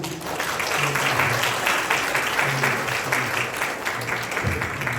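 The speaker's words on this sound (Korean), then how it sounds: "박수로 좀" Guests at the opening ceremony of a health and welfare training centre in Seogwipo, Jeju, break into loud, sustained applause. Many hands clap in a dense, steady roar that holds close and full for several seconds, with faint voices beneath.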